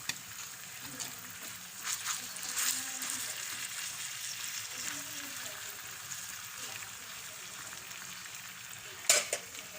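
Chicken frying in a pan with a steady sizzle and crackling hiss throughout, a few louder pops and stirring bursts, and a sharp clatter near the end.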